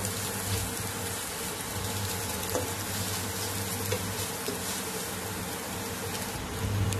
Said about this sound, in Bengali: তার জন্য পেঁয়াজটা শুধু একটুখানি ভেজে নেব।